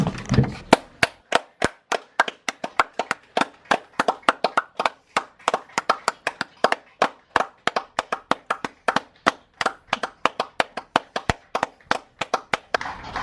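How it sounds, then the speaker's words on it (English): Hands clap for key workers at 8 o'clock during lockdown, a close, sharp run of claps in uneven rhythm that continues for over ten seconds, with fainter claps from neighbours behind. "we are going to clap for the key workers first"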